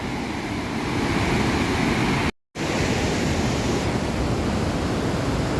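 Victoria Falls pours with a steady, loud broadband roar from close by, an unbroken hiss-like rush of falling water cut by one brief dropout, with no voices.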